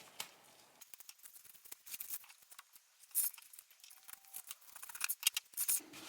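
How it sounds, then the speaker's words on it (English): Fabric is trimmed with sharp sewing scissors during a cut-and-sew project, giving a series of close, crisp snips and slicing cuts in an irregular rhythm with soft handling rustle between them. "Pull out my good scissors and let's just do a little bit of trimming."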